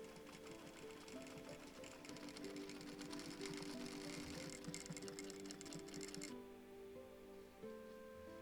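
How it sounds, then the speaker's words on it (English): A sewing machine stitches little green fleece puppet hands, whirring in a fast continuous mechanical chatter close by, then stopping abruptly and leaving a quieter background with faint tones. "little green fleecy hands, which we're going to sew up on the sewing machine"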